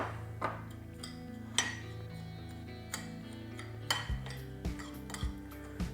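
Panko crumbs and grated Parmesan being mixed in a bowl, with a series of light clinks and taps of utensil against the bowl, irregularly spaced and fairly close.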